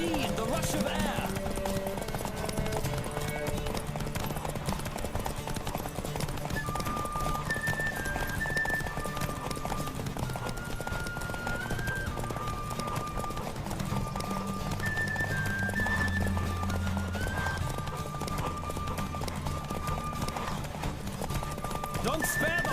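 A horse galloping in a race in The Witcher III: The Wild Hunt, with rapid, continuous hoofbeats and occasional whinnies running under game music and a spoken voice.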